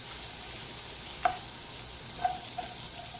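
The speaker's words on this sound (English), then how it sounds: "I'm going to saute some garlic" Garlic sautéing in a pan gives a steady, soft sizzle with a few light clinks of a utensil stirring, close and alone without speech.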